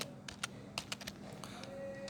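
A password is typed on a computer keyboard during a typing test, with a quick run of quiet, crisp key clicks in an uneven rhythm and no talking.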